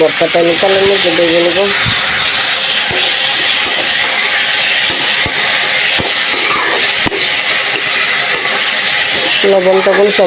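Taki fish sizzles loudly in hot oil for a bharta, a steady dense frying hiss that runs throughout, with brief voice-like tones at the start and end.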